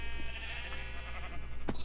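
A sheep in the Minecraft video game gives a short bleat near the end, heard over a steady low hum and soft background game sounds.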